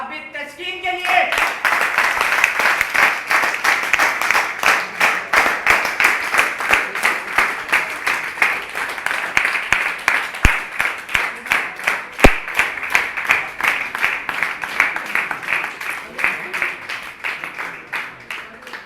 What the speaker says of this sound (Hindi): तो एक दफ़ा भरपूर तालियां बजा दें, भरपूर क्लैपिंग कर दें